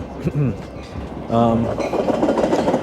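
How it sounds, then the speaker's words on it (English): A train rumbles and clatters past nearby, with a brief horn-like tone rising over the steady rolling noise. "And there's a train here."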